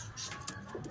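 A racing pigeon arriving at the loft during a race, giving a soft, brief coo close by against a faint outdoor background.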